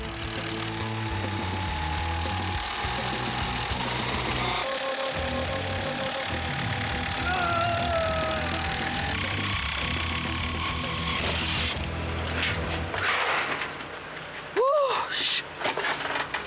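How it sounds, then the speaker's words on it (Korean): Electric drills whir and rattle in loud bursts during assembly of a modular hanok on a building site, mixed with engine noise and clattering, while people talk nearby. "모듈러 한옥은 수만 번의 전동 드릴로 지어집니다"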